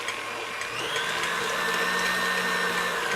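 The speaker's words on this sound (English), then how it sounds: "So we're going to start with 1 8-ounce package of cream cheese. And I'll start getting that blended here." An electric mixer whirs steadily while blending an 8-ounce block of cream cheese, a continuous close motor drone under a voice talking.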